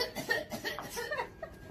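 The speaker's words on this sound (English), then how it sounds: "Thank you for coughing." A person coughs in a few short bursts mixed with laughter-like chuckles, heard fairly close amid other voices.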